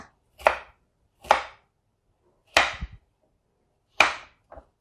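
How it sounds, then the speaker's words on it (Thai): A knife chops bitter melon into pieces on a cutting board, four sharp, close thwacks spaced unevenly with a lighter tap at the end, in an otherwise quiet kitchen. "เสร็จเรียบร้อยก็หั่นชิ้นตามชอบได้เลยนะคะ"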